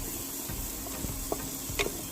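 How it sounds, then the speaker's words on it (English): Crab pieces coated in barbecue sauce being mixed in a frying pan, a continuous close sizzle with soft spatula knocks and a couple of sharp scraping clinks. "Let's add some barbecue sauce to it. And then give it a nice mix."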